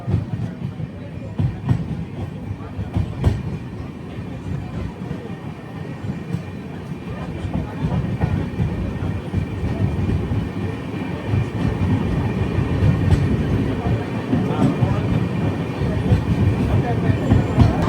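The Padmavati SF Express at cruising speed, heard from inside, gives a steady loud rumble with rhythmic clickety-clack of wheels over rail joints, continuous throughout.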